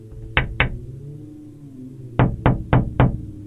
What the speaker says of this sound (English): Till it actually turns into knocking.